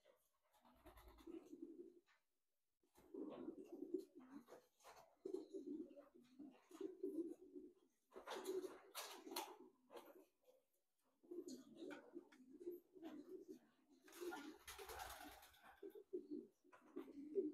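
Racing pigeons in a one-loft race facility in Texas coo in soft repeated throaty bursts with short pauses, quiet and close, with occasional scratching and wing movement.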